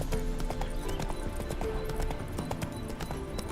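Horse hooves clip-clopping in The Witcher 3: Wild Hunt, a steady rapid trotting rhythm of close hoof strikes over continuous game ambience.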